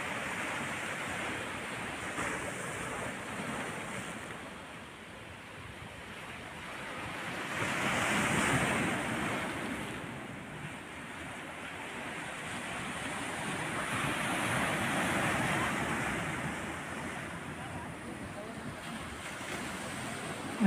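Sea waves along the Alexandria corniche rise and fall in slow, broad swells of surf, with wind noise mixed in and someone talking over the water.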